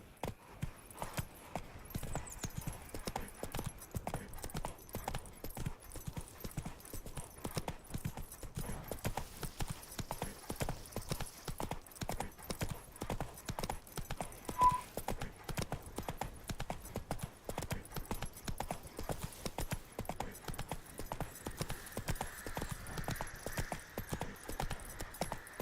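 A horse gallops in the video game The Witcher 3, a steady, rapid clip-clop of hooves continuing throughout at moderate level, with occasional faint background game sounds.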